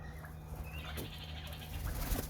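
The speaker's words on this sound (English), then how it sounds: "Australian king parrots." Australian king parrots in an aviary give harsh, bleating calls, several short cries spread across a couple of seconds over a steady low hum. No one speaks.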